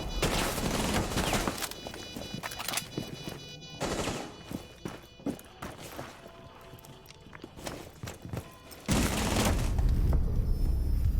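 Shotgun and SMG-11 gunfire in a Rainbow Six Siege match inside a construction area, bursts of shots and distant booms coming and going, with a loud dense stretch at the end and no voices.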